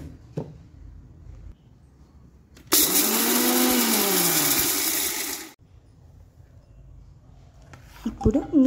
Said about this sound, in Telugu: సో ఫస్ట్ మనం ఈ సన్ఫ్లవర్ సీడ్స్ని ధనియాన్ని ఫస్ట్ మిక్సీ చేసుకోవాలి